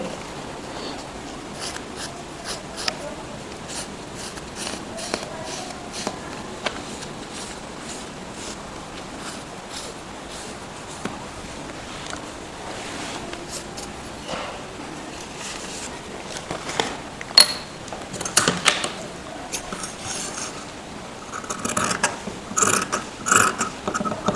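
Scissors snip through a paper pattern for a plain umbrella sleeve, cutting a full round and then the inner curve, with crisp clicks and crunches that grow busier and louder toward the end, close up and with no talk.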